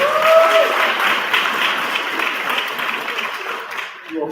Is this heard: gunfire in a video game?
no